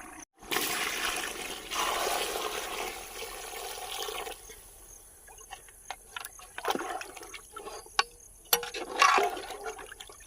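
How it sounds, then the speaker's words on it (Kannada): Water is poured into a pot to cook rice for Mysore-style mutton pulao, a sustained gushing splash that thins into dribbles, with scattered clinks and knocks toward the end. "ಇವಾಗ ಅಕ್ಕಿ ಅಳತೆಗೆ ಅದ್ರ ಡಬಲ್ ನೀರು ಹಾಕ್ತಾ ಇದ್ದೀನಿ."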